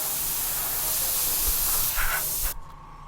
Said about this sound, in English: Then I'll just go over this part with my airbrush and with a little bit of a darker paint.